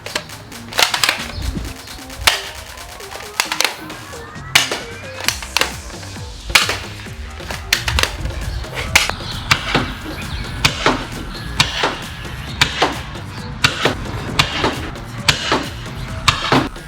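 Evike gel ball blaster firing repeatedly at a person outdoors, a rapid run of sharp snapping shots with clattering impacts across the whole stretch, loud and close.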